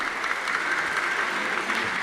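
Steady, continuous applause from a congregation at a Catholic Mass for the feast of Christ the King, honouring the choir, a dense even wash of clapping throughout with no pause.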